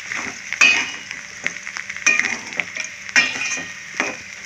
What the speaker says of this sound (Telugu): చక్కగా మనకి ఇలాగా ఫ్రై అవుతుంది.